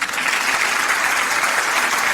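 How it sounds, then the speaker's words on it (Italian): Steady, dense applause from a studio audience on an Italian radio and TV variety show, a continuous wash of many hands clapping at even volume for about two seconds. "lo accogliamo sicuramente con un applauso."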